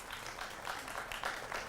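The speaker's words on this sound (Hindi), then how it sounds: "देखिए मैंने नहीं कहा था ताली बजाइए" Studio audience applause, a soft, steady patter of many hands clapping at a moderate distance, short and fairly quiet throughout.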